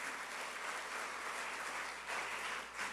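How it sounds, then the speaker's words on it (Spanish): A church congregation applauds at a Sunday service, with sustained clapping at a steady level throughout and a brief swell toward the end, and no voices rising above it. "Denle un aplauso a Dios."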